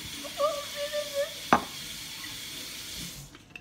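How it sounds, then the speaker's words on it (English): Cups are rinsed under a running kitchen tap, with water splashing and gurgling in short bursts and one sharp clink near the middle, close by with no talking. "We're gonna rinse out the cups real quick again."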